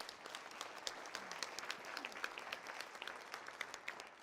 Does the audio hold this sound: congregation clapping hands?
yes